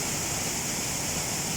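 A waterfall roars as a steady, dense wash of falling water, broadband and constant, close and loud with no breaks or voices over it.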